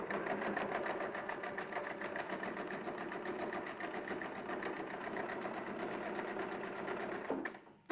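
A sewing machine stitches a triangle quilt piece, a steady fast mechanical whirr with an even needle rhythm running nonstop close by, cutting off abruptly at the very end.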